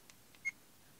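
A CamPark V40 action camera gives a single short electronic beep as recording starts, preceded by a couple of soft clicks, in an otherwise quiet room.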